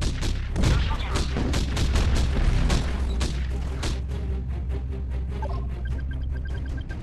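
Gunfire and artillery from the Art of War 3: Global Conflict blitz tournament strategy game, a dense barrage of booms and rapid shots that is heaviest early, then thins to scattered blasts amid a steady rumble.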